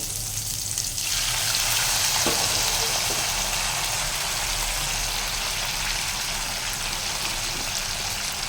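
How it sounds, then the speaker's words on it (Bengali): Hot water poured into a pan of fried tomato and green chillies, a sudden loud rushing hiss that swells to a steady boiling sizzle heard up close without talk. "এবার আমি এর মধ্যে দিয়ে নেবো একটু গরম জল"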